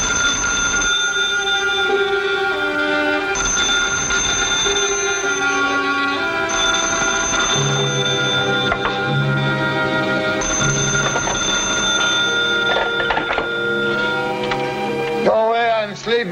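An old-fashioned telephone bell rings in repeated long bursts with short gaps in between, loud and persistent, sounding through a radio drama scene while voices speak beneath it.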